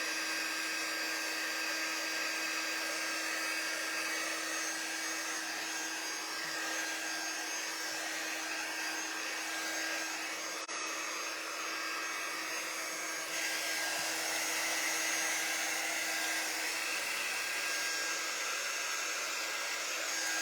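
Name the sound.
hair dryer drying watercolor paint on foil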